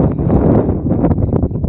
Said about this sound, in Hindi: हवा की आवाज़ आपको आ रही होगी